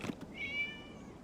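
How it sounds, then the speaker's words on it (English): A single cat meows once in the video game Genshin Impact, a clear, drawn-out mewing cry that rises and fades over about a second against a quiet background. "It was just a cat."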